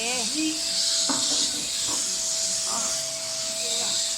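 A vacuum cleaner is running at home, its loud, steady whooshing hiss continuous throughout, with people talking over it.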